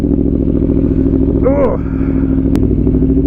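Aprilia Tuono V4 Factory 1100 motorcycle with an aftermarket exhaust, a loud close steady engine drone with a brief rev climbing in pitch midway, while a rider talks over it.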